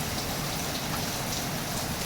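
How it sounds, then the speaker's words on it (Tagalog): Steady, dense rain pours down without letup, a close, loud wash of drops drumming on surfaces around a small shop in Quezon City, with no voices heard. "Ayan po ang ulan."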